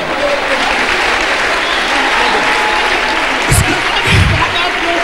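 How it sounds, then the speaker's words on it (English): Sustained applause from a church congregation fills the space, with voices mixed in and a few louder bursts of clapping toward the end. "give the Lord a clap offering"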